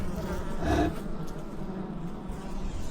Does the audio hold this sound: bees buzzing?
yes